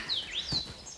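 Birds calling on a hillside in Sagada, with a few short, high chirps and whistled notes heard at a moderate distance over quiet outdoor air.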